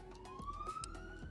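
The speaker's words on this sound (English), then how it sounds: "Apologize for the sirens." Emergency vehicle siren wailing through a town, a steady rising tone sweeping upward across a short stretch, moderately distant and constant with no one talking over it.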